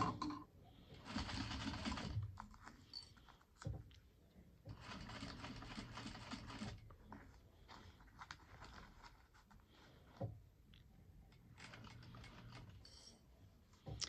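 A sewing machine stitching binding along a fabric edge, running in several bursts of steady whirring with short pauses and clicks between, quiet and close, with a voice speaking briefly.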